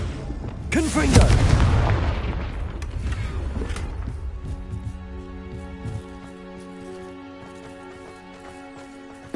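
A Bombarda explosion spell goes off in Hogwarts Legacy, a sharp loud blast with a rumbling low boom that decays over several seconds into ringing ambient game tones.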